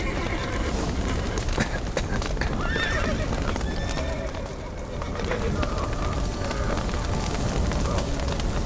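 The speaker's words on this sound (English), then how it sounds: "The horses!" In The Witcher 3 video game, horses whinny and neigh amid rapid, dense hoofbeats clattering close by, with a shout or voice mixed into the busy, loud scene.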